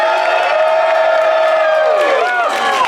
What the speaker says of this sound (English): By round of applause, who wants Emma to experience the janky blue thing?